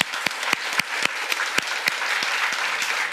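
Applause in a church during a fasting prayer service, a congregation clapping in a quick, sharp, fairly even rhythm that sounds close and fills the whole stretch without speech.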